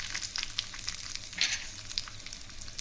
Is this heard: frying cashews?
yes